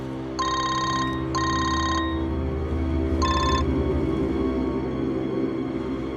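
A telephone rings in two long bursts, then a short third burst, loud and close over a steady low hum in a tense indoor scene.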